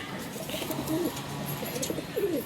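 Show pigeons cooing softly, with a couple of low, rolling coos close by over a faint background hum.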